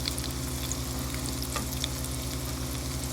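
Breaded, rehydrated freeze-dried pork loin frying in a pan, giving a steady, close sizzle and crackle with small pops throughout and no talking.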